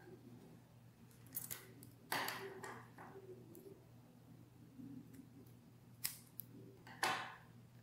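Scissors snip through yarn while an amigurumi snowman is being crocheted. A few crisp, short cuts sound close but fairly quiet over a low steady hum.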